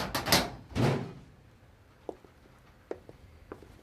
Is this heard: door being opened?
yes